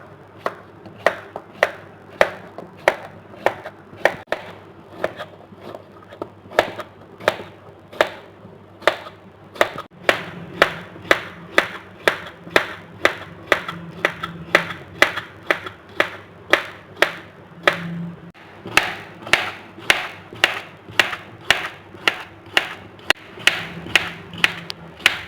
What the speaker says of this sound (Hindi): अब इनकी हम रफली सी कटिंग कर लेंगे।